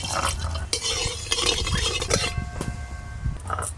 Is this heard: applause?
no